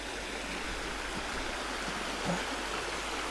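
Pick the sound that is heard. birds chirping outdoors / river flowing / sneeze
river flowing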